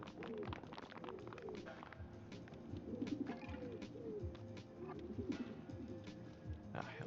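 Pigeons cooing in a video game, soft repeated coos and murmuring bird calls layered over one another, continuous and fairly close, with a faint background hum.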